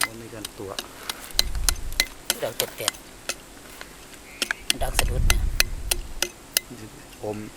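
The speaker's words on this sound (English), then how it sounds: "he's going to break up this stone and try to hone in on the target" Hammer blows breaking up a stone while prospecting for metal in Thailand, a series of sharp, close cracks in irregular rhythm with low thumps and handling noise between strikes.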